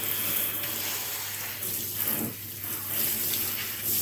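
Water runs steadily from a tap while hair dye is rinsed out, a continuous close splashing hiss that dips briefly partway through as the flow is interrupted.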